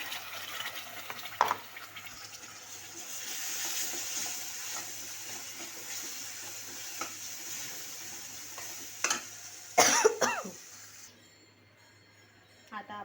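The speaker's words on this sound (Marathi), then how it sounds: "आता ह्याच्यामध्ये आपण कांद्याची पेस्ट टाकून घेणार आहोत." Onion paste frying in a pan for a dal batti dish, with a soft continuous sizzle, scraping stirs and a few clinks of the spoon against the pan, fairly quiet throughout.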